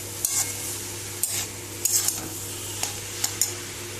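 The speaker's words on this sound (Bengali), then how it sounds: "সয়া সস দিয়ে দিলাম এবার একটু নাড়িয়ে ফুটিয়ে নেব" Momo filling with soy sauce and vinegar being stirred as it simmers in a pan: a soft bubbling sizzle under a few scattered scrapes and knocks of a utensil against the pan, quiet and close.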